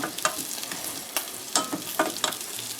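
Lobster tail and tuna steak tossed in butter in a hot pan give a low sizzle, broken by several sharp clatters from tossing and stirring, with no talk.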